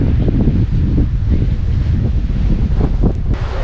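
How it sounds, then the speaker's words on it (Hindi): Strong wind blowing through Harshil valley on the way toward Gangotri, a dense, continuous roar and buffeting against the microphone, loud and unbroken, with a faint brief chirp near the end and no one talking. "हवा बहुत तेज़ चल रही है"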